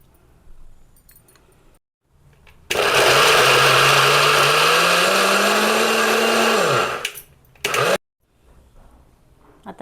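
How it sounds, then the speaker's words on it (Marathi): A mixer grinder grinds poha with jaggery for Govind ladoo: a loud motor whirr runs about four seconds with rising pitch, cuts off, then gives one brief extra pulse before quiet. "परत 1 वेळा मिक्सर फिरवून घेणार आहोत आपण."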